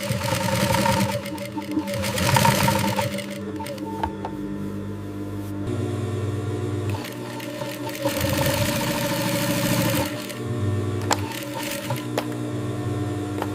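An industrial sewing machine stitching bra fabric in a factory, its mechanical whirring running in bursts of varying speed, with pauses and shifts in pitch against background machinery hum.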